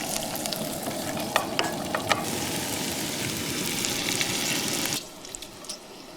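Thick-cut brown sugar bacon fries in a pan with a steady close sizzle and crackle, a few sharp pops breaking through, before the frying sound drops away near the end.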